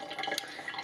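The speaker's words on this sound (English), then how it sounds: "I'm just going to rinse it out a little bit just to be sure that I don't have any lint or anything in there" Water trickles and drips briefly while a paint jar is rinsed out, a faint, close splashing with a few small drips and no talking.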